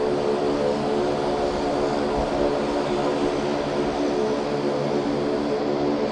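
A Regional Express Saab 340 turboprop airliner at Sydney Airport gives off a steady, droning propeller hum with layered engine tones, constant and moderately distant throughout.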